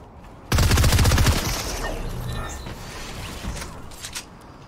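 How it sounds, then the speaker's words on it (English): A shotgun fires in Fortnite Chapter 3 Season 4: a sudden loud burst of rapid, evenly spaced shots lasts under a second, then trails off into quieter in-game clatter and faint distant pops. "this shotgun kind of sucks"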